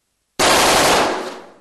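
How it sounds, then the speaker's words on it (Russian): A single loud, sharp burst of automatic fire from an AK-12 assault rifle at a factory test range, starting abruptly after brief silence and decaying with a ringing tail, with no voices. "Сейчас идут тестовые стрельбы."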